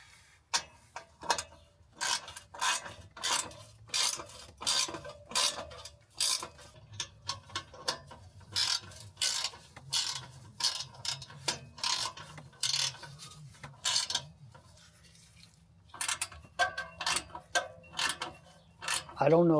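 Rapid bursts of mechanical ratchet clicking as the spring bolts on a 2000-2005 Toyota Celica exhaust muffler are tightened, with irregular runs of close, crisp ticks and brief pauses between them.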